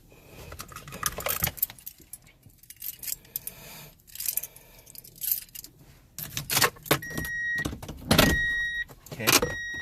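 Keys jangling inside a Toyota Tundra during an instrument light cluster replacement, several bursts of metallic clinking and rattling in short irregular bouts, close by, with quiet gaps between them.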